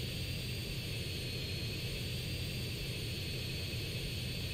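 A steady, close airplane engine drones in Grand Theft Auto San Andreas, a continuous broadband roar with a low rumble that holds level throughout, with no talk over it.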